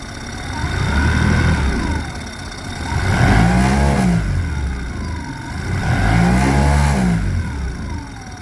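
A 2010 Mercury 15hp outboard motor revs up under throttle and settles back three times in a steady rise-and-fall cycle, loud and close, with no talking.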